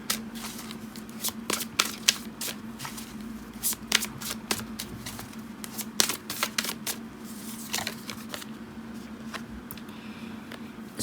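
Tarot cards shuffled by hand in a quick, steady run of crisp riffling snaps and taps lasting the whole stretch, close and clear over a low constant hum, with no voices.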